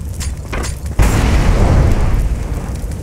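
A grenade explodes in Counter-Strike with one loud, close boom, then a sustained rumbling roar that fills the rest of the moment, preceded by softer game noise.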